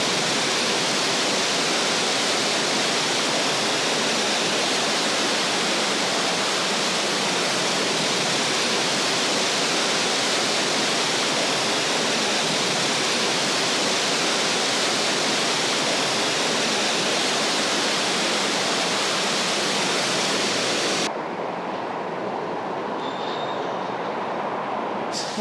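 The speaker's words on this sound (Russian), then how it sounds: "Такие, знаете, искусственные водопады." Artificial waterfalls in a Fort Worth city park, giving a loud, steady broadband rush of falling water that fills the whole stretch without pause.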